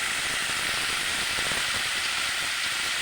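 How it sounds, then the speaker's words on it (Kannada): Food frying in a pan, a steady, dense sizzling hiss that holds at an even level throughout with no pauses and no voices. "ಈ ಥರ ಫ್ರೈ ಮಾಡ್ತೀವಿ."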